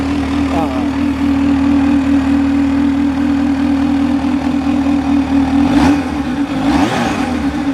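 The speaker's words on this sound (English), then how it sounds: "the cool thing about these supercharged H2s is they really make some noises you're not used to hearing" A supercharged 2020 Kawasaki Z H2 motorcycle engine holds a loud, steady idle-like hum, then revs up twice near the end in quick rising-and-falling sweeps, close to the listener.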